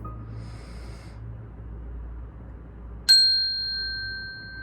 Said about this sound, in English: I'm about to hit the chime.